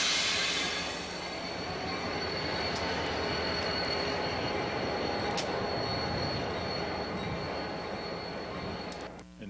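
A brand-new GE locomotive in its first week of service rolls past a flipped hopper car, a steady loud rumble of engine and rolling wheels with faint high squeals, sustained throughout with no voices.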